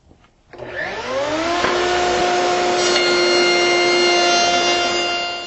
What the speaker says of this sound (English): When I'm using the router, it's critical that I wear safety glasses and hearing protection.